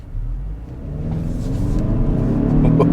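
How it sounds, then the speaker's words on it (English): A 2022 Kia Stinger GT-Line in sport mode accelerates at full throttle, its engine rumble building steadily louder and rising in pitch over three seconds, heard from inside the car without speech. "I'm going to floor the accelerator."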